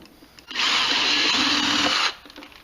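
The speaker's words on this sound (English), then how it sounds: "We're going to drill a hole right in the center right here" A 5/32 drill bores a small pilot hole in a single loud, steady whine lasting about a second and a half, with quiet before and after.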